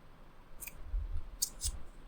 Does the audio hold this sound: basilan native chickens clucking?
no